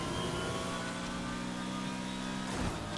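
A BMW race car engine, fitted with a swapped motor, in the racing game Need for Speed Heat, drones steadily at high revs with a bright, sustained tonal whine, loud and continuous with no talk over it.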